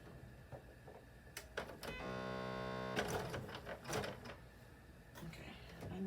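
A sewing machine set to zigzag stitching runs in a short, steady burst of about a second, preceded and followed by soft handling clatter in a studio.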